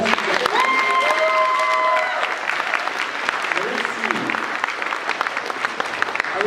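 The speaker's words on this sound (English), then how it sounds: "let's give a big round of applause for both our contestants." An audience at a convention contest breaks into sustained, dense applause, hands clapping steadily for several seconds with a few cheers and voices mixed in.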